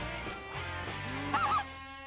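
Speckled-belly geese honking during a goose hunt, a few nasal, harmonic calls in short bursts with a higher yelping cluster near the end, fairly faint and outdoors.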